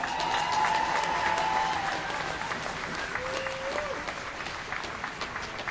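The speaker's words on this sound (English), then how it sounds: "Give her another round of applause." A crowd at an outdoor Free Palestine rally in Melbourne claps steadily in a dense, sustained round of applause, with faint tones drifting over the clapping.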